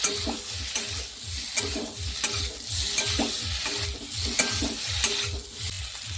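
A spoon stirs boiled potatoes through a sizzling pan for aloo dum, scraping in a regular rhythm of repeated strokes over a low, steady fry, close and moderately quiet, with no talking.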